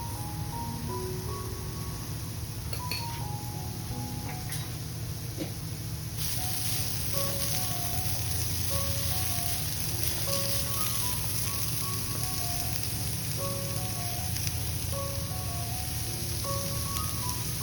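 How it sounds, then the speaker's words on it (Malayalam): Grated beetroot and carrot sautéed with salt in a pan for a Kerala-style mezhukkupuratti, giving a quiet, steady rain-like sizzle under light background music with plinking melodic tones. "പാകത്തിന് ഉപ്പൂടെ ചേർത്ത് നന്നായി ഒന്ന് വഴറ്റിയെടുക്കാം."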